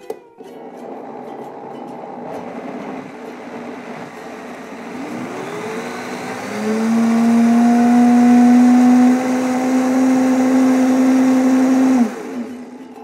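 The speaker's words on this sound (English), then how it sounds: "So we'll turn the blender on." A blender whirs as it purees fruit into a smoothie in a home kitchen, rising to a loud steady high-speed whine for several seconds before shutting off, with no talk over it.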